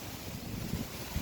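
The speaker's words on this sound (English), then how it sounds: "Really windy out here." Strong wind buffets an outdoor spot beside a Jeep Wrangler YJ under bodywork, a steady low rumble of gusts against the microphone lasting only a moment.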